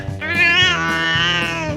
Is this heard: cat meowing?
yes